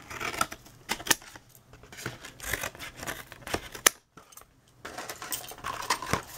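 Scissors snip across the top of a cardboard tissue box. Sharp, close cuts and clicks come in irregular bursts, with a short pause partway through and no talking.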